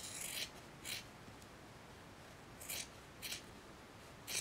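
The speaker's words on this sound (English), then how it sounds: "I need to trim off the extra fabric," Scissors trimming excess minky fabric off sewn plush tubes: several crisp, brief snips spaced irregularly, close and quiet against a faint hiss, with no talk.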